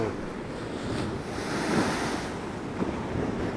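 Rough sea surf crashing on the shore at Şarköy on a stormy November day, with a steady roar of breaking waves and gusty wind buffeting the microphone, and no voices.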